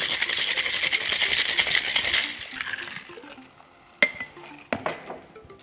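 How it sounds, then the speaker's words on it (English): Ice cubes rattle hard and fast in a cocktail shaker holding blue orange-flavored syrup and blueberries. The loud, dense shaking lasts about three seconds, then gives way to a few scattered clinks. "let's get some ice cubes and shake that up"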